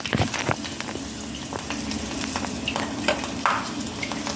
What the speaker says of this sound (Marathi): अशा पद्धतीने दुसरेही पापड मी तळून घेत आहे।